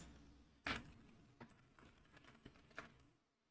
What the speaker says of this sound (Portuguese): Vou até digitar aqui.